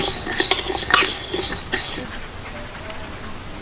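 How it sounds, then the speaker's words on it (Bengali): Close, dry scraping and light clinking of a utensil stirring spices dry-roasting on low heat in a metal wok, in irregular strokes that fade to a quiet hiss. "মশলাগুলোকে একদম লো আছে ড্রাই রোস্ট করে নেবো"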